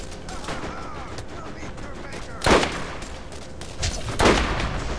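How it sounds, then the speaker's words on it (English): Gunfire in the Borderlands shooter game at the Zephyr Substation: a dense game soundscape with two sharp, loud bursts of shots a couple of seconds apart. "Who else is shooting at me?"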